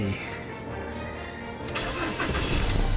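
A 2014 Ford Ranger 2.2 XLT Hi-Rider pickup with automatic gearbox starting up: steady quiet background, then a sudden crank and catch around the midpoint as the engine fires and settles into a rising idle rumble.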